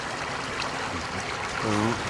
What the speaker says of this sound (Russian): Этот ключ всю зиму не замерзает.